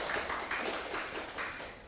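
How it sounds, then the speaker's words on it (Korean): An audience applauds at a residents' public hearing on an urban regeneration plan around Hongje Station. Moderate, continuous clapping from the crowd swells and fades in small waves, with no voices over it. "여러분 다시 한번 박수 주시면 감사하겠습니다"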